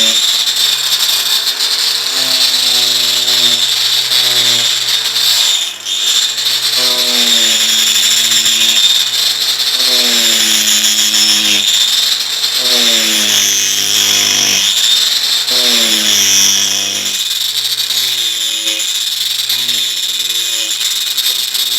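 A power tool takes a deep cut into a large piece of wood while making a milk maid's yoke. Its loud, close motor whine rises and falls in pitch repeatedly as the load changes.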